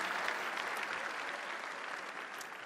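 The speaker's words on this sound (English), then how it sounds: "round of applause for Mr. Menno Vandenberg" Sustained crowd applause from an audience at the Samsung Galaxy Note 3 launch event, a dense, steady wash of many hands clapping that holds evenly throughout and fades only slightly toward the end.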